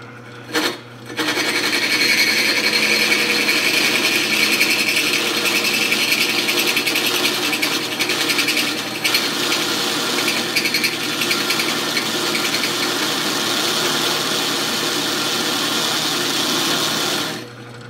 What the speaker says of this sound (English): I think the drill press is going too fast.